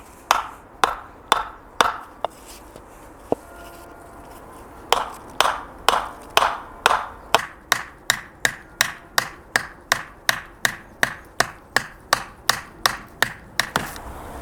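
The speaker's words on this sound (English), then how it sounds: "it's just a case of hammering it in" A hammer drives a wooden tree stake into the ground, a few scattered blows, then a long run of steady, evenly spaced knocks, sharp and close outdoors.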